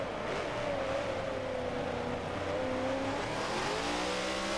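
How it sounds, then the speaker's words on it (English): A race car in Forza Motorsport 7, racing in an IMSC round at Hockenheimring, holds a steady high engine drone that rises and falls slightly as it revs out on the back straight, heard alone at moderate level. "He's really revving out that car too on that back straight."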